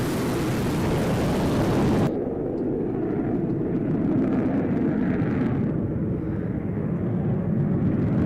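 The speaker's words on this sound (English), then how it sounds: "this was just one of the many aircraft that we featured on the show last night" A steady, loud broadband roar of an aircraft close by, continuous and unbroken, with the highest hiss dropping away partway through while the low rumble stays heavy, no voices.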